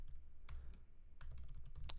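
Code being typed on a computer keyboard: a short, close burst of quick key clicks in uneven clusters, no voices.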